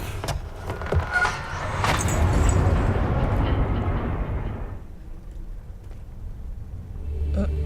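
An elevator ride in Amnesia: The Dark Descent, a heavy mechanical rumble that swells to a loud, grinding peak, eases off and then rises again, with clanks near the start.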